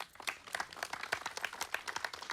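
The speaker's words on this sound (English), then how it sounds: "Let's give her another round of applause." Audience applause after a Mohiniyattam dance performance, with scattered claps from a modest crowd rising and falling evenly at moderate distance and volume.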